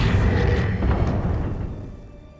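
Accio spell cast in Hogwarts Legacy, a single deep booming magical burst with a rumbling tail that fades away over about two seconds, loud and close, no talking.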